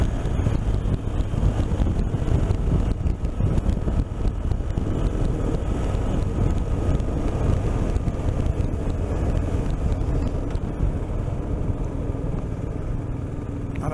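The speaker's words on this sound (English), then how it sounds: "It's a bit windy." Continuous gusty wind buffeting a microphone on a moving motorcycle, with a low engine rumble underneath, loud and unbroken throughout with no voices.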